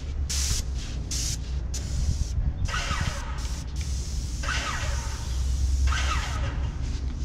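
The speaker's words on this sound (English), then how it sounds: "now I'll go and spray all the remaining paint out of the gun." A paint spray gun blasts out leftover paint and water in loud, continuous hissing bursts that start and stop several times, close by and alone.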